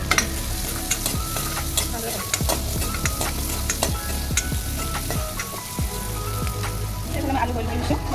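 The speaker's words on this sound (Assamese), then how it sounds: "এতিয়া মাছখিনি ভালদৰে ভাজি ল'লোঁ।" Boroli fish frying in a pan with turmeric, panch phoron and onion, stirred steadily through a dense, continuous sizzle with repeated scraping strokes close by.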